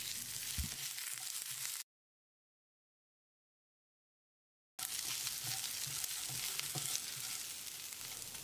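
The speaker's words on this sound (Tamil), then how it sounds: "1 டீஸ்பூன் சோம்பு, 1/2 டீஸ்பூன் சீரகம், 4-5 சின்ன வெங்காயம், ஒரு 30 செகண்ட் கருகாமல் பிரட்டி விட்டுடலாம்" Fennel seeds, cumin and small shallots frying in a pan with a constant hiss and a few knocks of stirring, close by; the sound cuts out completely for about three seconds midway, then resumes.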